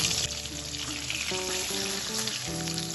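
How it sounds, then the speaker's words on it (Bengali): Fish pieces fry in hot oil for a mustard bata fish dish, a dense continuous sizzle with steady tonal notes layered over it, and no talking. "3টে করে আমি ভেজে নেব মাছগুলো"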